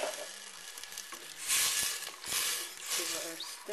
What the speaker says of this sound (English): And add the stock into the pan